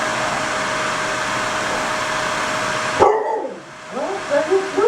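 A dog reacts to a running vacuum cleaner; the machine's steady roar fills the first three seconds, then cuts off, leaving close whines and yips from the dog.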